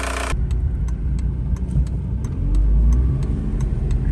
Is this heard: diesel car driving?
yes